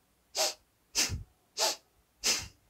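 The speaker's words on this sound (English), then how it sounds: "fire breathing on a slower pace." Fire breathing yoga exercise at a slower pace: four sharp, forceful nasal exhalations, evenly spaced about 0.6 seconds apart, close and clear with quiet gaps between, no talking.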